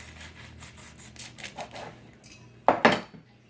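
A knife cutting into a small plastic-wrapped tube of ground beef on a kitchen counter: a few faint scrapes and taps, then two sharp, louder crisp cuts near the end.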